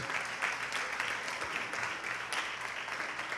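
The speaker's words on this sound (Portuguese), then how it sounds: "Vamos aplaudir ao nome de Jesus." A church congregation claps in praise during a Portuguese-language service, a continuous even roar of many hands sustained throughout, fairly close and loud with no distinct voices.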